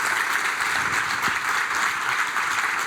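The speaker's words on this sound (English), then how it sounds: "Not everybody is applauding right now, okay?" An audience claps steadily and evenly for about three seconds, a moderate, continuous wash of applause from a crowd after a speech about voting for Hillary Clinton.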